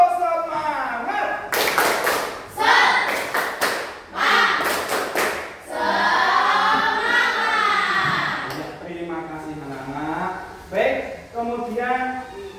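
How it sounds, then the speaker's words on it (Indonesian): Schoolchildren doing a rhythmic spirit clap, sharp bursts of group claps in patterned beats alternating with chanted voices, fairly close and lively. "Tepuk semangat."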